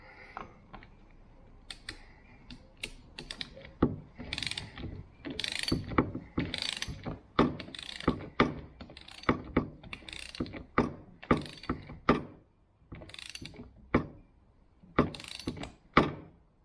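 Torque wrench clicking and ratcheting while tightening bolts during a front axle rebuild, a close series of sharp irregular clicks with quiet gaps between them.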